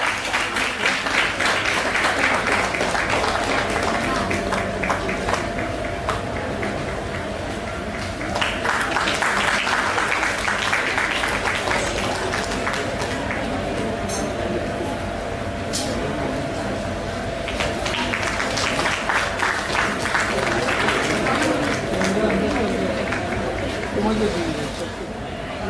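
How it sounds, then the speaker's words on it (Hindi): Audience at a Hindi poetry gathering breaks into loud, sustained applause, dense clapping swelling and continuing for many seconds, with a voice over a PA system mixed in at times. "जोरदार तालियां हो जाए।"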